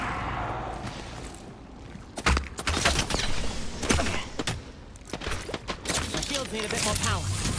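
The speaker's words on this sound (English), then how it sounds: "The second squad is firing at us." Gunfire in a battle royale video game, bursts of sharp shots crackling between pauses as an enemy squad fires, mixed with game sounds and talk over it.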